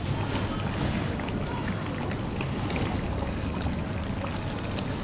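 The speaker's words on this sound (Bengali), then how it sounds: "ছিটতেছে খুব, ভাজতে হবে" Tomato sauce frying and spattering in a pan, a continuous dense sizzling crackle that holds steady and fairly loud throughout, with no talk over it.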